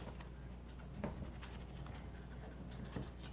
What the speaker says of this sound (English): So just run your knife around your cake pan